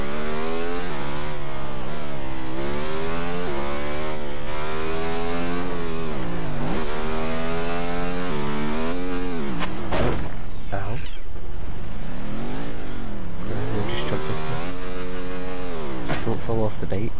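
A motorcycle engine in Test Drive Unlimited 2 revs loudly and steadily, pitch climbing and dropping with gear changes and throttle, alone and close throughout.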